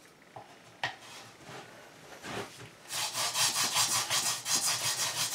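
A wooden hand-drill spindle twirled against a fireboard to make friction fire, a few scattered knocks, then steady back-and-forth rubbing strokes growing louder and rhythmic, close and without talk.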